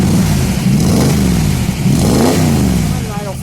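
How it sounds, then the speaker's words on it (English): A 1965 Shelby Mustang GT350 advanced prototype V8 revs up and back down close by, its loud rising and falling engine note rumbling over steady exhaust noise while someone talks. "I thought I'd give it a rev."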